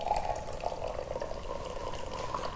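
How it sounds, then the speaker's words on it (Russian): Warm water pouring into a small cup, a steady liquid trickle with a faint ringing tone, close and moderately quiet, continuous for a couple of seconds with no voices. "во второй стаканчик мы тоже добавляем воды"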